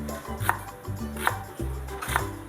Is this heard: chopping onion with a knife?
yes